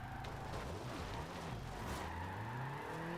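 A Ford Lotus Cortina in the Forza Horizon 2 racing game spinning out, with a loud revving engine whose pitch swoops up and down under a continuous tire-skid hiss.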